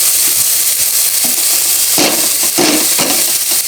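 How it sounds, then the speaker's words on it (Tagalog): Canned corned beef fries with hotdogs in a pan, making a loud, close, continuous sizzle with a few scraping stirs of a utensil partway through and no voices. "Then ilagay natin yung corn beef"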